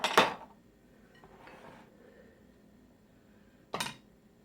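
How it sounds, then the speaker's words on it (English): A meatloaf mixture goes into a baking dish, giving two sharp clinks of dish and utensil at the start and near the end, with quiet handling and scraping in between. "I'll be putting it into this baking dish."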